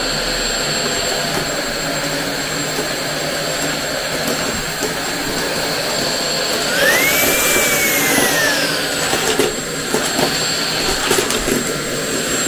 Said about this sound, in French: je vais passer l'aspirateur dans toute la maison